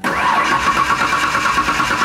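A Ford Aerostar XL van's engine cranks and catches, settling into a steady mid-pitched run over about two seconds, close and loud with no voices.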